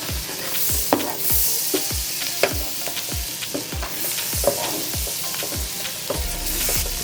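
Garlic butter bubbling in a pan over low heat, a steady soft sizzle broken by repeated sharp utensil scrapes and taps against the pan as it is stirred.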